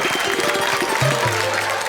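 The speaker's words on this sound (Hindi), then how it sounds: "खेल करा, तालियां बजाओ।" An audience at a comedy show claps steadily throughout, a dense wash of applause with a faint voice or tone briefly audible underneath.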